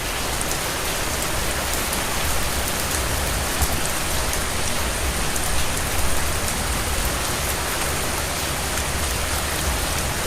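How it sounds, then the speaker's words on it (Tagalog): Heavy monsoon rain pours down steadily, a dense, constant hiss of drops drumming on surfaces throughout, with no voices. "Oh, biglang ulan lang. Grabe, lakas talaga."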